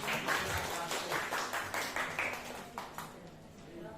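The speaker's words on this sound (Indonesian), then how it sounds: "Monggo tepuk tangan." Clapping from an audience at a school staff session on positive school culture, a scattered run of claps fading toward the end, with some background voices.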